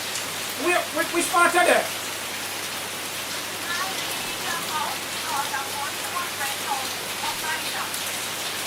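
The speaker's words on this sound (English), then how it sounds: "Look at the rain heavy and the breeze are going out the door on it." Heavy rain pours steadily as a hurricane storm passes, a constant broadband hiss filling the scene, with brief voices talking near the start and faint murmuring later.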